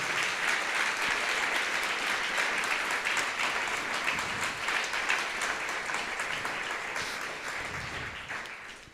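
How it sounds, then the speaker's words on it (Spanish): Congregation at a Sunday morning church service applauds, a full, sustained round of clapping that stays steady for several seconds and then begins to taper off at the end. "Dale un fuerte aplauso en esta mañana."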